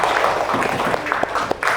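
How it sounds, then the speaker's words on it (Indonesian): Students in a classroom clap for a group that has just presented, a steady patter of hand claps with a few louder individual claps and faint voices underneath. "Ya, beri tepuk tangan yang meriah untuk kelompok 6."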